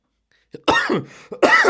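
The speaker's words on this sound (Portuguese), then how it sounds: "dá até uma crise de tosse" Two sharp coughs from someone close by, each a short harsh burst, the second following after a brief pause.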